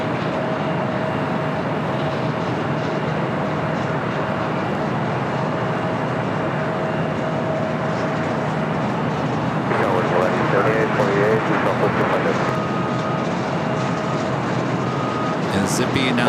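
A Delta A330neo airliner taxiing at LAX airport gives a steady, loud broadband jet rumble and whine that swells slightly near the end, with a voice talking over it.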